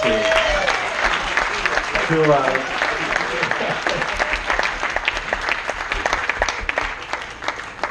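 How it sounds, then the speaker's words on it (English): An audience gives itself a round of applause during a speech, with dense crowd clapping throughout, some voices and exclamations layered in at the start before the clapping continues strongly with sharp individual claps. "I actually would like to ask you to give you all a round of applause for yourselves"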